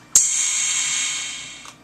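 A single bright metallic crash hits sharply, then rings and slowly fades over about a second and a half, heard alone.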